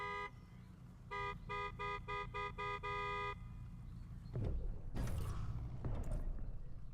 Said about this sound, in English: Hey, stop honking your horn at me